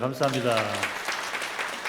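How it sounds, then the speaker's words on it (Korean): Applause in a church service for the accompanists, a deacon on piano and a senior deaconess on organ. A voice speaks briefly at the start, then a steady clapping texture carries on for the rest. "우리 반주하신 집사님, 또 우리 올겐 치신 권사님 박수 한번 하겠습니다"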